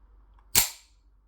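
The slide of a CZ Shadow 2 Urban Grey pistol snaps closed in one sharp, close metallic clack that rings briefly in an otherwise quiet room.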